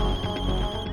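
A mobile phone ringtone plays steadily and fairly loudly for about a second, a sustained electronic tone with layered harmonics and no talking over it.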